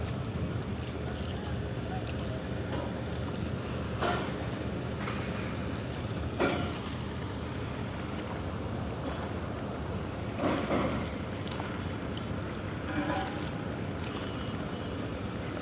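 A boat ferry ghat at Ashwin Gate in Dhaka, Bangladesh, carries a continuous rumble of boat engines, water and wind, with scattered knocks and distant voices throughout.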